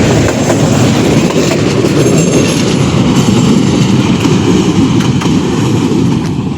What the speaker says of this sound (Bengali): তো ট্রেন কিন্তু চলে গেল, দেখলেন খুব সুন্দরভাবে চলে গেল এই মেঠো পথ দিয়ে।